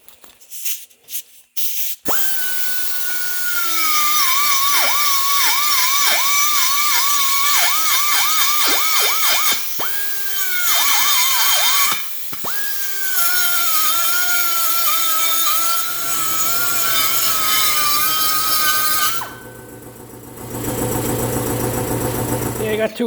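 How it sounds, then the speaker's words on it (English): A die grinder shapes a metal body mount up close, its high whine starting and stopping in long runs that dip in pitch under load. A hum takes over near the end, and someone speaks at times. "I'm going to shape the rest of it with die grinder."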